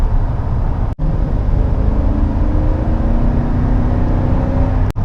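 Steady engine hum and road noise from inside a moving 2014 Toyota Tundra Limited pickup driving into the wind, with a low drone of wind and two brief sharp clicks.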